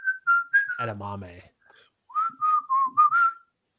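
A person whistles a bright, wavering tune in two short phrases, close and fairly loud, separated by a brief stretch of speech.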